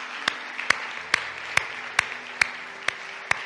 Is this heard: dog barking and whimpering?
no